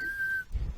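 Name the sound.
imitated whistling sound from a nostril while breathing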